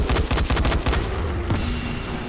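A rapid string of loud, close shotgun blasts in the zombie game Dying Light. Sharp repeated reports come in quick succession, then trail off into a lingering rumble.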